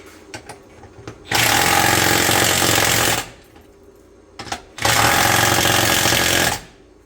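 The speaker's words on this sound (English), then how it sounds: "Now I crank these down, it's probably going to bust the tops off of these lug nuts" Power tool hammering lug nuts tight onto extended-length studs of a Baja spare tire carrier, two loud sustained bursts of about two seconds each with brief clicks and pauses between.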